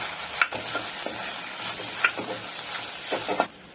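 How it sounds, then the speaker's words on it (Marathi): Garam masala and other spices sauté in a pan under a constant bright sizzle, with three or four soft stirring scrapes and a pause near the end. "आता आपण हे सर्व मसाले चांगले परतून घेऊया"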